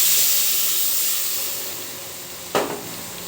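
Water is poured into a hot pan of fried tomato, giving a strong, steady steamy hiss that fades slightly, then a fresh sharp burst of sizzle near the end, close and alone.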